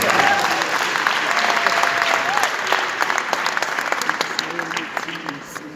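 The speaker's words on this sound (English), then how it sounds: "Let's give him a round of applause." A crowd at a motivational speech event claps loudly for the speaker, a dense burst of applause that gradually thins out, with a few voices and a cheer mixed in.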